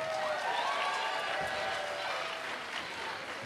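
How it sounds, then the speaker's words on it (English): Steady, fairly distant applause fills a school auditorium after the LHS Jazz Band plays at a high school variety show, a broad wash of many hands clapping without pause. "Let's give another round of applause to Dan Carlson and the LHS Jazz Band."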